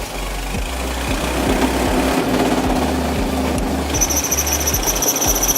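A vintage Mercedes Simplex 40 HP car engine revving up under acceleration, a loud, steady mechanical roar with a rapid low chugging pulse and a high whine that comes in near the end.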